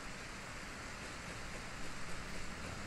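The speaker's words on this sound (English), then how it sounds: "Why is it raining again?" Steady soft rainfall in the Harvest Moon 3D: A New Beginning farming game, a continuous even hiss of rain with no talking over it.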